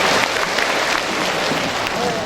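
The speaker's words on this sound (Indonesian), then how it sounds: "Tepuk tangan buat ayah ibu kita semua." Applause from the audience at a Halal Bi Halal gathering of teachers, a steady dense patter of many hands filling the room, with voices mixed in underneath.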